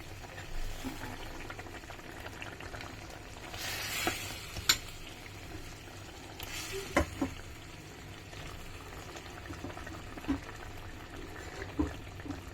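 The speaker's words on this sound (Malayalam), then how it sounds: "ഓക്കെ, കൂരിക്കുള്ള ചാറ് തിളച്ച് വന്നു." Gravy for a koori fish curry bubbling and simmering in a pan, a steady low sizzling bed broken by a few soft clinks and stirring touches, with no talk over it.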